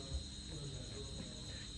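A mosquito buzzes as a faint, thin, steady high whine indoors at night, with a soft rasping hum beneath it and no other sound.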